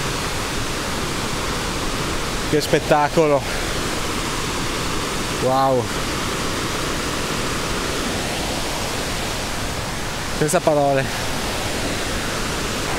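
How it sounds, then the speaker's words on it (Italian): Heavy, steady roar of a waterfall swollen by snowmelt fills the whole clip, loud and close, while a person briefly exclaims in Italian three times over the rushing water. "sta venendo giù tanta acqua"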